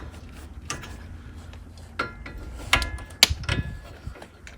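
Long breaker bar working at a front brake bolt on a 2005 Ford Escape, giving a few faint creaks and sharp metallic ticks and clicks as it shifts and bites, quiet and close.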